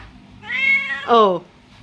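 A hungry stray cat gives two drawn-out, pleading meows close by, the second louder and sliding down in pitch, against a quiet background.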